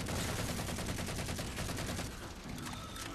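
Rapid sustained gunfire in the video game Halo 4, dense continuous bursts at close range filling the clip, easing slightly near the end.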